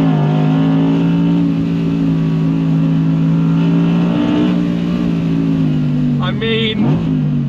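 Audi R8 RWD Performance engine holding a loud, steady high-rev drone on a closed private road, close and continuous, easing briefly near the end.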